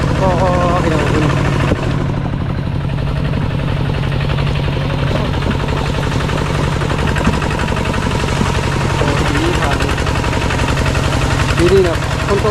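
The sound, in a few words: walking tractor engine driving through forest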